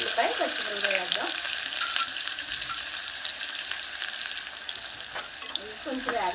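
Onions and green chillies frying in a pan, a loud, dense, continuous sizzle with crackling pops, close up and with no talk.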